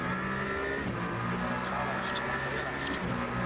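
Race cars in Le Mans Ultimate, a Toyota hypercar among GT3 cars, a constant loud engine roar with wavering pitch as cars pass close, a voice talking over it.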